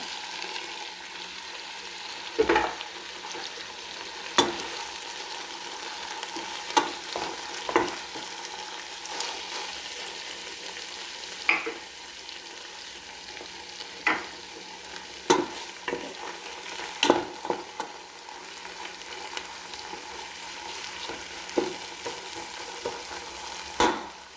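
Fish molly masala mix sizzles steadily in a hot pan, with repeated sharp scrapes and clacks of stirring spaced every second or two; close, moderate level, no voices.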